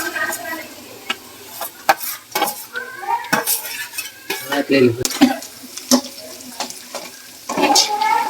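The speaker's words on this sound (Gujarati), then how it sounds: "હવે આ બધું આપણે મિક્સ કરી અને થોડીક વાર સાતળવા દઈશું" Cabbage, carrot, onion and capsicum sizzle in a hot pan while a metal spoon stirs and scrapes them in irregular clinks and scuffs, loud and close.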